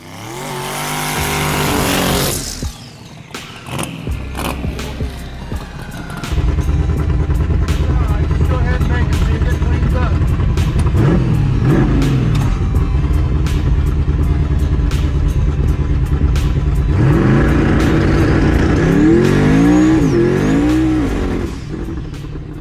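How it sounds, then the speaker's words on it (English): A Chevrolet S-10 drag racing pickup's powerful engine roars and accelerates hard on a road test hit, a sustained, loud run with rising revving tones, near and forceful, after a brief pause. "got the truck back out on the road and made a test hit"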